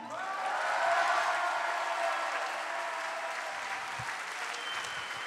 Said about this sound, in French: Je vous prie de faire un tonnerre d'applaudissements pour Hugo Bernalici.